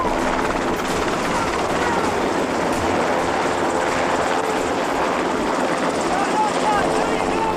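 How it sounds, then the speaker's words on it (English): A Coast Guard Jayhawk helicopter arrives to intercept suspects, its steady, loud rotor and engine roar filling the whole stretch without letup, with speech likely mixed in underneath. "A Jayhawk helicopter has arrived to intercept the suspects."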